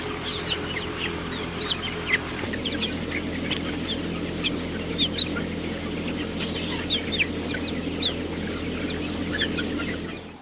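Many broiler chickens crowded inside a shed, with a constant murmuring cluck and scattered sharp chirps over a steady mechanical ventilation hum, moderately faint throughout.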